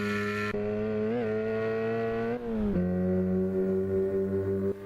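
A racing car engine in a modded video game, played on a home-built simulator, drones in a steady, slightly synthetic hum, with pitch dipping and rising as gears shift, loud and close.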